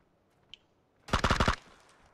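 Automatic gunfire in the video game PUBG: a single faint click, then a loud, close burst of about six rapid shots lasting around half a second, followed by a short fading tail.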